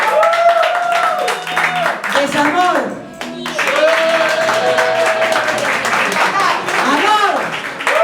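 Audience applause and clapping at a live improv comedy show in a bar in A Coruña, a vote by applause, heard under loud shouting and talking from the crowd and performers.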